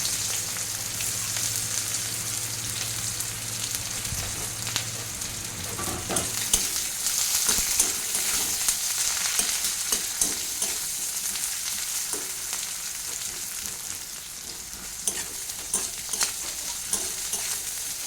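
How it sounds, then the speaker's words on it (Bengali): Onion sizzles continuously as it fries in a pan of hot oil for a loitta fish curry, with a bright steady crackle, occasional stirring clicks and a low hum that drops away partway through. "এবার আমরা পেঁয়াজটা দিয়ে দেবো।"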